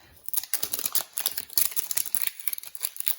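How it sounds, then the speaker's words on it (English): Rapid crinkly plastic clicks and rustles, close up, as a small plastic zipper bag from a miniature craft kit is pressed and sealed along its track, with no talking. "I just think it's such a satisfying sound when you actually get the like zipper thing to work."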